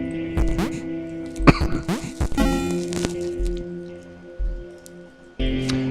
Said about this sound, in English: Oh, water.